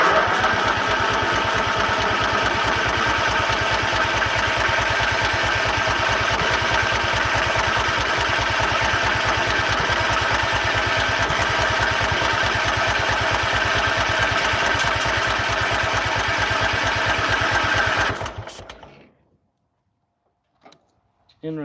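A 1973 Harley-Davidson Super Glide engine runs steadily and loud up close with a rough lumpy idle after carburetor priming, then abruptly dies into near silence; voices talk over it.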